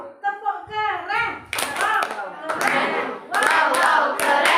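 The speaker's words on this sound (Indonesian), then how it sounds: "Kita beri tepuk keren." Children chant and then break into the 'tepuk keren' group clap, dense bursts of hand claps and thumps under excited voices, close and loud.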